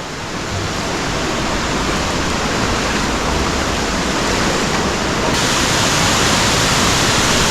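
Steady, roaring rush of falling water fills the whole clip, loud and continuous with no voices.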